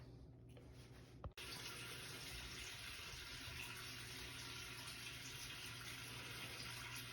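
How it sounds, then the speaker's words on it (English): A hot water tap in a home heating setup is turned on with a click and then runs, a steady close rushing stream filling the rest of the clip. "I'll go ahead and turn on some hot water too"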